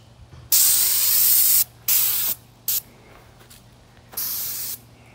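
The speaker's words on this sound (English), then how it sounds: "I sprayed them with carb cleaner." Carb cleaner is sprayed from a can onto a nest in four loud, close hissing bursts of differing length, with quiet pauses between them.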